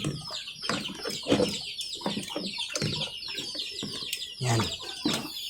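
Several chickens cluck and chatter close by in a busy, overlapping flock, with bursts of louder calls throughout.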